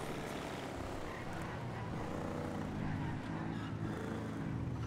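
A video game plane passing very close, a broad engine roar that holds steady and swells slightly midway, loud and near, with faint voices beneath.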